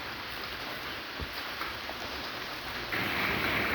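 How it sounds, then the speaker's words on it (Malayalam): Steady rain falls on an outdoor courtyard during the Onam season, a continuous soft hiss with scattered drop ticks that grows slightly louder and denser near the end, with no voices. "അപ്പോൾ നമ്മൾ പൂവിടാൻ നോക്കുമ്പോൾ തന്നെ മഴ വന്നു കേട്ടോ"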